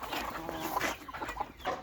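Native village hens cluck in short, irregular bursts nearby, a low murmuring chorus of several birds over a brief moment.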